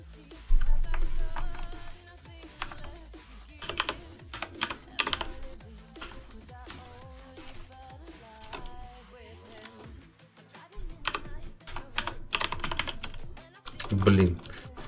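Rapid clicking keystrokes on a gaming keyboard, bursts of fast typing with short pauses, close and fairly clear, with a voice talking intermittently in the background.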